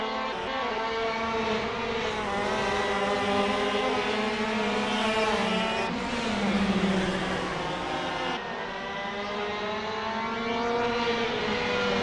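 KC shifter karts (TM K9C) in the racing game Assetto Corsa, racing the first lap at Royal Raceway, make a continuous buzzing, high-revving engine drone with several karts overlapping and pitch rising and falling through gear shifts.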